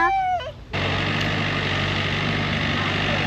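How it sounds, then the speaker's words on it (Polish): A tractor pulling a trailer gives a steady, close engine drone and rumble, preceded by a brief, high wavering call at the very start. "Przyczepa ciągnięta traktorem."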